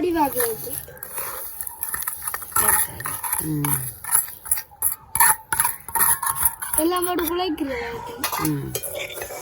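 Batter for paniyaram being mixed in a bowl at home in Jaffna, with repeated clinks and scrapes of a spoon against the dish under near, steady talk.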